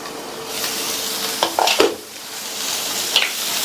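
A brinjal curry with tamarind water being stirred in a pan, soft scraping and stirring strokes with a faint sizzle underneath, a few short louder scrapes standing out near the middle and end.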